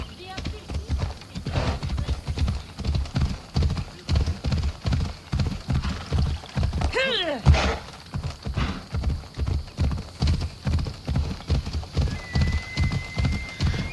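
A horse gallops in the video game Assassin's Creed Odyssey, steady rhythmic hoofbeats pounding throughout, with a brief whinny partway through.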